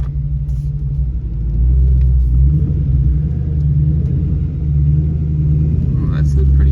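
A Ford Mustang on drag radials drives along with a loud, deep engine rumble heard from inside the car, holding steady and swelling slightly as it moves.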